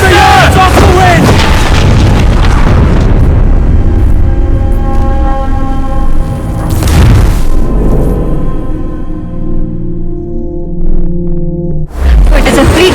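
Heavy ship cannons fire in the naval combat of the video game Assassin's Creed Black Flag, a loud volley of deep booms followed by long rumbling decay and a fresh blast at the end, with a voice calling out at the start.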